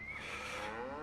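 Dairy cows in the Farming Simulator 25 video game let out a long, loud, close moo with a falling pitch, lasting about a second and heard alone.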